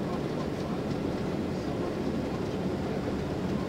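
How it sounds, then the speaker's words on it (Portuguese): Heavy limestone-hauling trucks on a Brazilian mining highway braking and revving their engines, heard as a steady, loud broadband rumble that holds without a break throughout. "Freiozinho e motor de novo aí"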